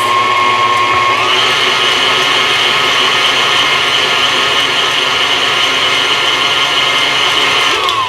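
An electric mixer beating sour cream cinnamon crumb cake batter, a loud steady whirring drone held almost unchanged throughout, with a slight pitch shift near the start and end.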